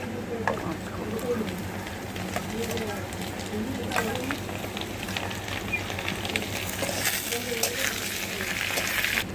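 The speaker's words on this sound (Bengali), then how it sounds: "কাঁচকলাগুলোকেও ভালো করে ভেজে নেব।" Raw banana pieces fry in a pan with a soft, steady sizzle running under a person talking throughout.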